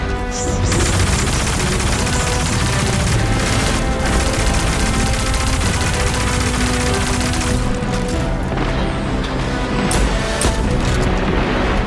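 Destiny 2 combat with revolver shots and explosions against Cabal enemies and a tank, a dense continuous barrage of loud blasts and gunfire with no pauses.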